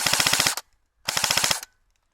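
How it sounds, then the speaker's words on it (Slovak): Airsoft gun firing two fully automatic bursts, each about half a second of rapid, evenly spaced sharp clacks, separated by a brief silence, close and loud. "Ale už teraz mu to čoraz dlhšie strieľa, tým lepšie mu to začína strieľať."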